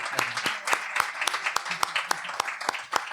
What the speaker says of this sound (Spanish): os pediría un aplauso para el autor